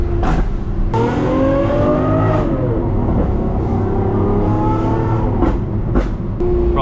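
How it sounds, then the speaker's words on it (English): A Gintani-tuned Lamborghini SVJ engine revs loudly and close on a downshift, with rising and falling blips and sharp cracks from the exhaust, heard from inside the car. "listen to the downshift"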